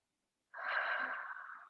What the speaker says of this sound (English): Fill it with breath.